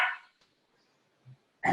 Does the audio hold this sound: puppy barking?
yes